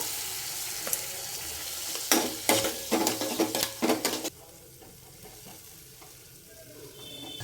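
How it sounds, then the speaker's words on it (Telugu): Chopped tomato frying in a pan with tamarind pulp added for a kandi pappu chutney sizzles steadily, with a burst of quick stirring scrapes in the middle before the sizzle settles quieter. "వేగుతున్న ఈ టమాటాలోని చింతపండు గుజ్జు కొంచెం వేసుకోవాలి సరిపడ్డా"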